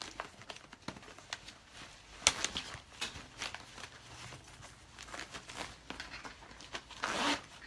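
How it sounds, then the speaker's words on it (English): A zippered storage pouch being zipped closed inside a car, with several quick rasping zip strokes and light crinkling and handling noises, fairly close and quiet. "I'm gonna zipper it up"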